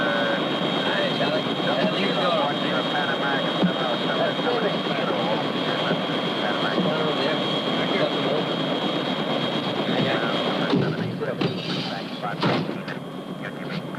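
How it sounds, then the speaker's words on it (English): A helicopter heard as a steady, loud engine and rotor roar throughout, droning continuously before thinning out toward the end with some clattering noises. "Mr. President, isn't that your helicopter over there?"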